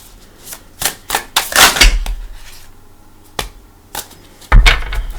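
Quick bursts of tarot cards riffling and slapping together, several short flurries separated by brief pauses, close and crisp.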